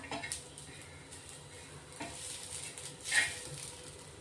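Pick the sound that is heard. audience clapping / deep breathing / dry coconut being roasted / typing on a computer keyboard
dry coconut being roasted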